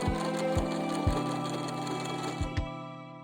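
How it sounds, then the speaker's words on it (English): A sewing machine topstitching a sweatshirt runs with a steady mechanical hum, a few distinct thumps along the way, then stops abruptly near the end. "while I put the top stitch on the sweatshirt."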